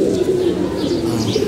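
Domestic pigeons coo with a low, continuous throaty hum, close and steady, with faint chirps overhead.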